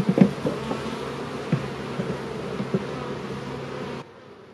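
A honeybee swarm hangs from a branch near a hive and keeps up a steady, droning hum outdoors with a few soft knocks. The hum cuts off abruptly after about four seconds.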